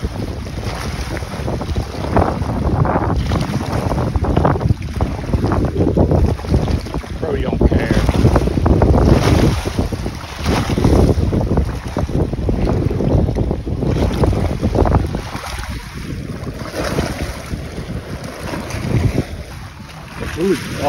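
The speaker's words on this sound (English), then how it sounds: "There's a lot of waves, man." Wind and waves roar around a surfer out in rough water, loud buffeting wind against the microphone with surging water rumble throughout, under occasional talking.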